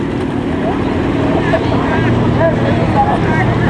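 An old tractor engine labors at a cotton gin festival, a low uneven rumble running throughout beneath people talking nearby.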